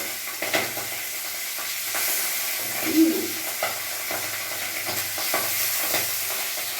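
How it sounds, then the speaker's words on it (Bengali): Pabda fish frying in hot oil in a home kitchen, a soft continuous sizzle with scattered pops and spatters, fairly quiet and heard alone. "মাছটা আবার ভাজা হচ্ছে,"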